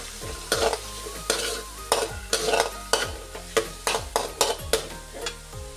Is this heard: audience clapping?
no